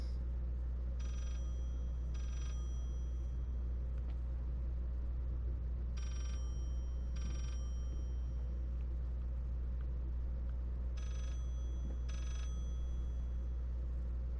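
An old-style telephone rings inside a spooky video game room, paired bursts of ringing repeating three times at even intervals over a low droning rumble, faint and somewhat distant.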